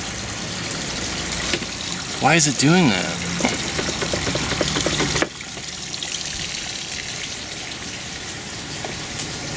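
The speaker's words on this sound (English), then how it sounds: "It is pouring." Heavy rain pours down on a DuraCraft boat in a steady, dense hiss that fills the whole stretch, while voices talk over it and a brief rising tonal sound cuts through near the start.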